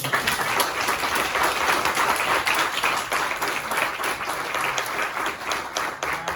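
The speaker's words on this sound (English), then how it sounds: "And a round of applause." Sustained applause from a lecture audience, dense steady clapping filling the room at an even loudness from start to finish with no talk over it.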